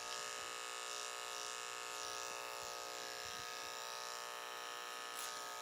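An electric hair clipper tapering a pompadour haircut hums in a continuous steady buzz, close and alone, with slight shifts as the blades work through the hair.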